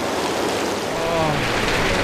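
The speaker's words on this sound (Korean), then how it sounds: "아까보다 비가 더 많이 오네요." Heavy rain pours outside a mountain lodge on Mount Kinabalu in a dense, steady broadband hiss. It is close and constant, and faint talk sits under it.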